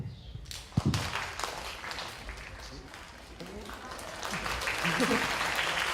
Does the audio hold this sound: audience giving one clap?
yes